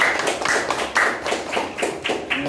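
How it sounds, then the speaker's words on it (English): An audience at a school reading event claps for a reading ambassador, producing brisk, fairly rhythmic handclaps from a modest group, close and steady over a couple of seconds. "Please applause for him."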